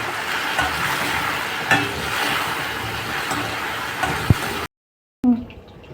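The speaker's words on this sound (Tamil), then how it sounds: "இப்போ முருங்கைக்காய் போட்டுக்கலாம். நல்லா ஃப்ரை பண்ணிக்கலாம்." Drumstick pieces fry in a pan with curry leaves for sambhar, giving a steady close sizzle with occasional stirring scrapes, before a brief silence and a final clatter.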